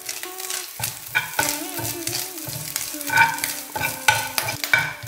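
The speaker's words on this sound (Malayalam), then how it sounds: "ഇത് നമുക്കൊന്ന് വറുത്തെടുക്കാം" Grated coconut with curry leaves and dried red chilli pieces is stirred and fried in hot oil in a pan, giving a continuous sizzle with repeated scraping stir strokes, close and fairly loud over soft background music.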